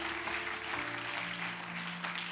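A church congregation claps together in a steady, dense wash of applause that stays loud and even throughout, with a sustained musical tone underneath.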